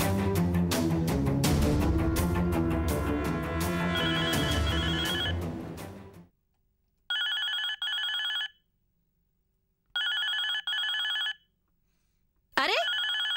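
A telephone bell rings in two double bursts after a stretch of loud background music, with silent gaps between the rings, then a short sweeping sound at the end.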